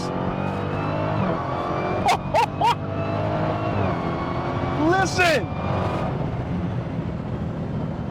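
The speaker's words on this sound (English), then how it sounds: "That raw power and Supercharger Whine is crazy addictive." A powerful supercharged Dodge Demon 170 engine rumbling and revving steadily, with a faint high supercharger whine on top and someone speaking briefly over it.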